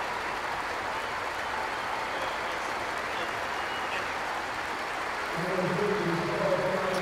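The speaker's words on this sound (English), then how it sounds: "he's getting a standing ovation from the majority of the crowd here" A stadium crowd at a T20 cricket match rises in a standing ovation for Aaron Finch, with sustained applause and a broad wash of cheering under a commentator's voice, swelling slightly near the end.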